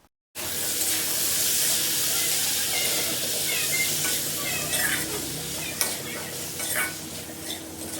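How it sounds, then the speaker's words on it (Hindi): Pointed gourd and potatoes with spices frying in a pan, a steady close sizzle with stirring scrapes and occasional clinks throughout, no talking. "उसके बाद ये परवल और आलू डालकर इनको भी अच्छे से भून लेते हैं।"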